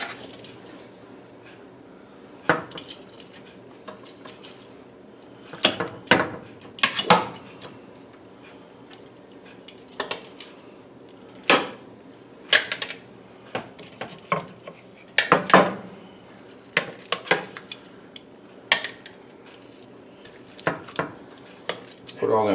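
Beef going back into a skillet during a pepper steak recipe, with repeated metal utensil scrapes and clatters against the pan, close and irregular, plus a few brief bursts of talk.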